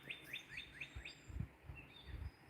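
Wild birds chirp outdoors in a quick series of five high, evenly spaced tweets, faint and somewhat distant, over low rumbling background noise.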